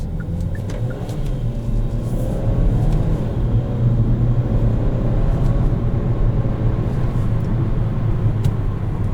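A 2021 Kia Seltos SX with its 1.6 engine accelerates in manual mode, heard from inside as a steady, loud low rumble that swells slightly as it pulls, with no talking.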